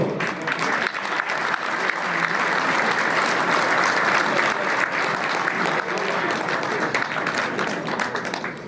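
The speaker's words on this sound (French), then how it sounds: "applaudissez-le bien fort" Applause at an association prize-giving ceremony as a winner is honored: loud, dense clapping from a large crowd that builds, stays strong and continuous, and eases slightly near the end.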